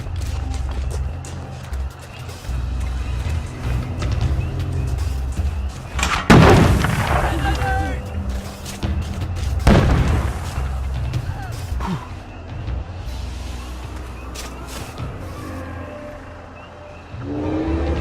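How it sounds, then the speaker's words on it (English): Bombing explosions in the video game We Happy Few, several heavy booming blasts around the middle, the biggest two a few seconds apart, over a continuous low rumble and background game noise, with speech from characters in places. "They're bombing again!"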